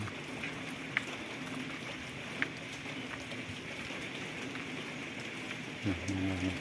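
Steady rain patters on a surface with a constant hiss and occasional louder drops, and someone speaks faintly near the end.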